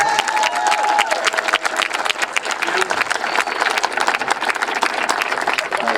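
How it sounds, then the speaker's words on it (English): An outdoor crowd at the opening ceremony of Chicago's 606 Bloomingdale Trail claps for the mayor, many distinct hand claps forming loud, continuous applause with some cheering throughout. "A big round of applause for our leader, Mayor Rahm, Emmanuel."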